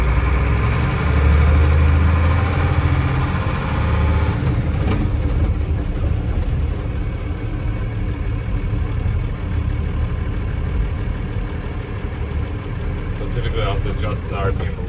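A Unimog U1300L truck's diesel engine idles steadily with a deep, continuous rumble, loud and close, while someone talks over it.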